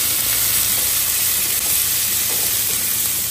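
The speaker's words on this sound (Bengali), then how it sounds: "পেঁয়াজ, আদা, কাঁচা লঙ্কা, রসুন সব কিছু একটা ফ্রাই প্যানের মধ্যে দিলে ভেজে নিচ্ছি" Onion, ginger, green chili and garlic frying together in a pan give a dense, steady sizzle and hiss, close and loud, with no talking.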